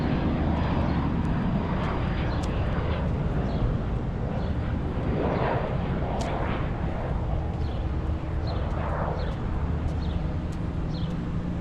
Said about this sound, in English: Stinson Reliant taper wing.